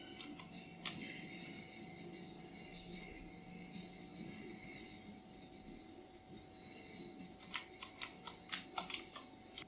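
Ajazz AK33 mechanical gaming keyboard keys being pressed, with a few soft clicks early on and then a quick run of sharp, close clacks near the end over a low steady room hum.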